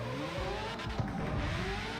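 Engine of a favorite drift car in the street-racing video game CarX Street, a steady droning rev with shifting pitch and a brief tire-squeal edge, continuous and close throughout with no talk.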